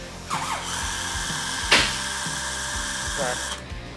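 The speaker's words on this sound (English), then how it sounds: "before marking and drilling your holes" A power drill whines steadily at close range, drilling holes to mount a bed box on a Can-Am Defender, its motor pitch shifting as it bites in, with a brief sharp screech partway through.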